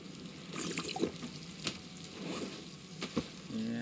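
Splashing, trickling water being gathered in the survival game Stranded Deep, with intermittent sharp clicks and a short tonal beep near the end, moderately quiet and free of speech.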